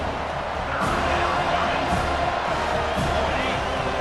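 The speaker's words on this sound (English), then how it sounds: "Decibels rising as the crowd gets behind this defense on 3rd down." A stadium crowd roars continuously on third down in the video game College Football 25, a dense, loud wall of cheering with commentary voices over it.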